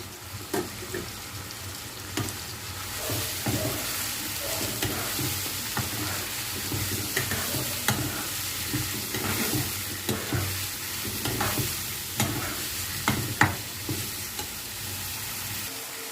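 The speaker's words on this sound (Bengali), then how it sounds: "আমি সমস্ত ভেজিটেবলগুলোকে কড়াইতে দিয়ে দিয়েছি।" Vegetables stir-fry over high flame in a kadai with whole garam masala for chicken fried rice, a loud continuous sizzle broken by regular scraping and clinking of the spatula, with no talking.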